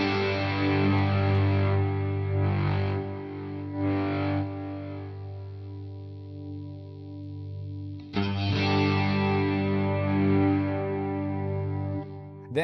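Electric guitar through a Headrush amp modeler with its gain turned down for a cleaner tone, playing sustained, lightly distorted chords with a chorus-like shimmer, a pause midway, then a fresh strum ringing out.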